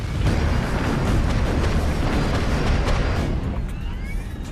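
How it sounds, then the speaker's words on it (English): A reenacted aircraft engine explosion aboard the Scandinavian Airlines Flight 751 airliner, a loud, continuous, rumbling roar with rough bursts, steady throughout and fading a little near the end. "There was a really big roar in the aircraft, almost like an explosion. Boom!"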